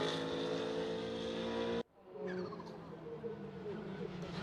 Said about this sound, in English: Now you can hear the turbo whistle from the newer BMW machinery